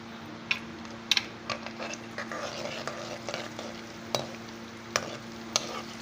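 Chopped ginger and garlic sizzle and crackle in a hot pan, with occasional scraping and clinks of a spoon stirring, close and steady.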